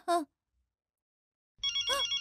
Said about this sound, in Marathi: फोन आला.